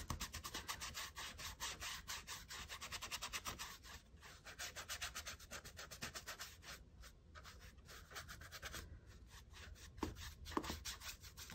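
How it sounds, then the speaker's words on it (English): A wet, stiff brush scrubs back and forth across watercolor paper in faint, close, rhythmic rubbing strokes, with no voice. "we're going to go in with a very wet, stiffer brush. And just scrub"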